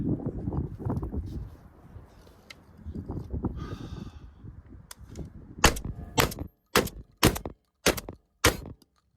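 Five or six sharp pistol shots from a Mossberg-style Aftershock firearm crack out in a quick drill near the end, after a stretch of low handling noise and rustle.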